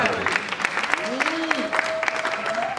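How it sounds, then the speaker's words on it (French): An audience at a civil wedding claps steadily in a continuous patter of applause, with a voice audible underneath. "Je vous demande d'applaudir aussi pour monsieur."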